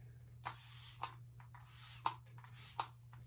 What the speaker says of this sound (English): Now I'm gonna spray it a little bit from far away with my handy dandy water sprayer.